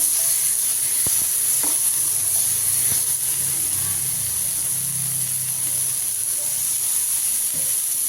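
Ground tomato purée sizzles and bubbles steadily in a hot pan for a mushroom curry, a loud continuous frying hiss with occasional stirring scrapes and no voices.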